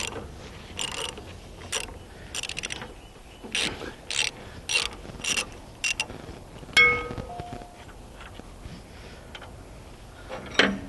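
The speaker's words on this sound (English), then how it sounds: "That takes a 9/16. Good, that bolt's coming right out." A wrench works a bolt loose from the cover of an Oliver 80 table saw, giving a run of sharp metallic ratcheting clicks in short bursts, close and fairly quiet, with a few clinks of metal parts and no talking.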